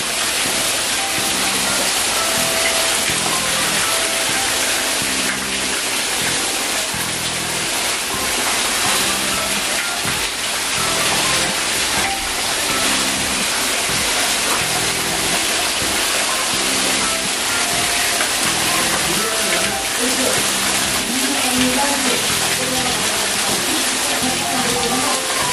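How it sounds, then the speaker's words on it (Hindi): Natural waterfall at a Shiva temple in Himachal Pradesh, water pouring down from above in a steady, loud broadband rush that fills the whole scene, with faint voices and activity underneath. "और ये ऊपर से जो पानी गिर रहा है ये भी नेचुरल"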